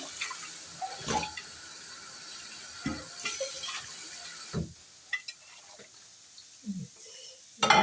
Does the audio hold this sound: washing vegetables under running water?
yes